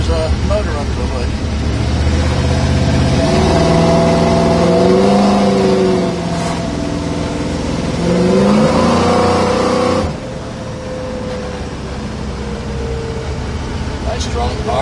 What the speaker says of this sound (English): A nice crisp exhaust sound.